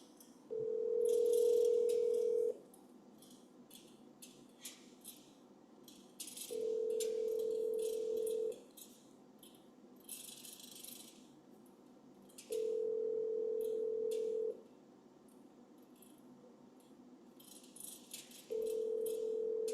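A telephone ringback tone pulses in evenly spaced bursts of about two seconds each, repeating four times while a call is placed to a real estate agent, with faint rustling between rings and no talk.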